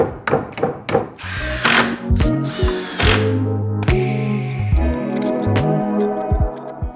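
Power drill driving screws into 2x4 lumber while building a skateboard quarter pipe at home: several short whirring bursts in quick succession, loud and close, with clicking clutch ratchet sounds and wood knocks between screws.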